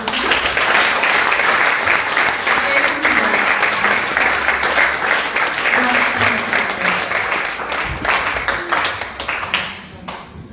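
A church congregation applauding for Jesus, dense sustained clapping from many hands close and loud for most of the stretch, tapering off at the end.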